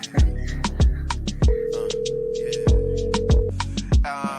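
A telephone rings ahead of a voicemail greeting, with repeated ring bursts and a sustained tone over a steady rhythmic backing.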